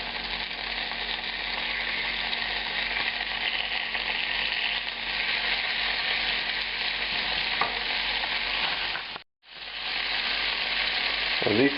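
Thin veal scallopini frying in a hot pan, a loud, steady sizzle that runs almost unbroken, with one brief dip to silence and a short scrape near the end.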